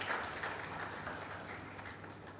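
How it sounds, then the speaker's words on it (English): A round of applause from a summer school audience in computational linguistics, steady and moderately distant, with a dense wash of clapping and no clear speech over it. "we really need to have a big round of applause"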